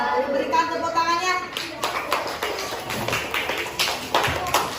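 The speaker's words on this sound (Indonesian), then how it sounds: "Berikan tepuk tangannya." Elementary school students applauding in a classroom after a group presentation, a busy spread of claps and taps at moderate volume, with children's voices chattering underneath.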